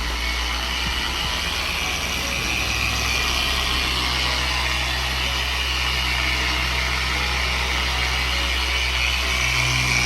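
A Shinemate 620 dual action polisher running on a car's paintwork, a steady close whirring drone with a faint mechanical rattle that holds evenly from start to finish, no voices.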